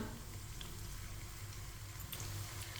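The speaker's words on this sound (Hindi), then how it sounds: "प्याज को हल्का सा ब्राउन कर लेंगे" Chopped onion with whole cumin and coriander seeds frying in a pan, a steady, fairly quiet sizzle running evenly throughout with no talk.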